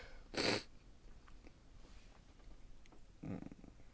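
A quick sneeze bursts out, followed by quiet breathing and a second softer sneeze-like burst a few seconds later, fairly faint.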